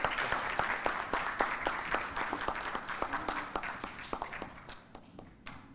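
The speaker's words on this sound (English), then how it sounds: "Please applause." Applause from an audience at an evening welcome event in a Barbados hotel ballroom, a steady patter of many hands clapping that holds for several seconds, then thins out toward the end.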